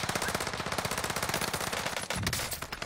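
Relentless automatic gunfire in a video game, shots ripping in every direction as a dense rapid-fire stream of close, loud bursts that carries on almost continuously, with only a brief dip partway through.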